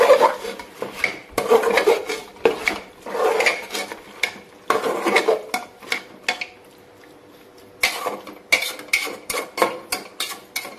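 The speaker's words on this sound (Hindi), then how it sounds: "इसे हम हाई फ्लेम में 1 मिनट तक भूनेंगे।" Chicken curry stir-roasted in a pot over a high flame for a village-style recipe: loud, close bursts of a ladle scraping and rasping against the pot in uneven strokes, with a brief lull midway and no talking.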